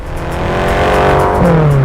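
A 2013 BMW M5 accelerates hard, its engine note rising steadily and loud and close, with a pitch shift near the end as it shifts or climbs through revs.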